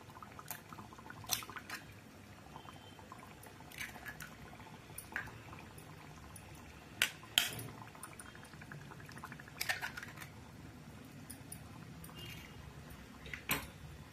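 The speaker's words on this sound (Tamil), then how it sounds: "2 முட்டை உடச்சி ஊற்றிக்கலாம்" Two eggs cracked and poured into a simmering chicken gravy, giving soft liquid pours and drips with a few sharper cracking taps spread across a quiet, bubbling pan background.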